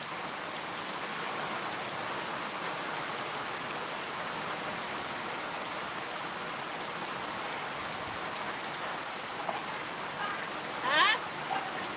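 Steady, dense rain pours down on a farm in an even hiss, with a brief higher chirp near the end.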